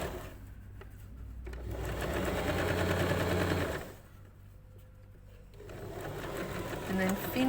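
Sewing machine stitching a French seam, its rapid mechanical whir running in two bursts separated by a quieter pause, with a person talking over and between the runs.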